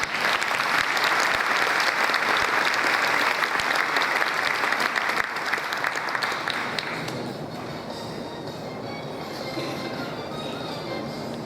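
A large audience gives a big round of applause for a rabbi at a Jewish community evening, loud dense clapping that carries for about seven seconds before fading into scattered claps and murmur.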